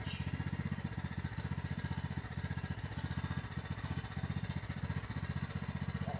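A Husqvarna weedeater's small two-stroke engine running rich with a faulty carburetor, a close, loud, steady buzzing drone with a rapid pulsing throb.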